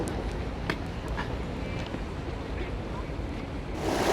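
Water flows and splashes at the Princess Diana Memorial Fountain in Hyde Park, London: a steady outdoor wash of moving water with wind noise and faint distant voices.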